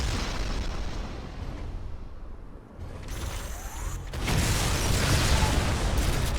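A True Lev destroyer attacks a unit in Civilization: Beyond Earth with heavy booming blasts and mechanical whooshing, a loud burst of explosive noise that drops briefly and then surges again, with no voices.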